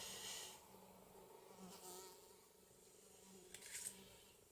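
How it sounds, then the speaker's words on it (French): A housefly buzzes inside a craft workshop, a faint, steady drone that swells and fades as the insect moves about, heard alone in a quiet room. "j'ai une mouche qui est rentrée dans mon atelier, qui refuse d'en ressortir, mais elle fait un bruit."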